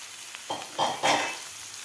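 Onion and finely chopped fenugreek leaves are stirred into a spiced mix in a pan, giving soft frying sizzle with three short scraping stirs close by, with no talking.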